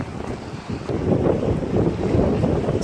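Strong wind buffets the microphone at a bayside pier on a hot, humid day, a loud gusting rumble with water lapping faintly beneath it.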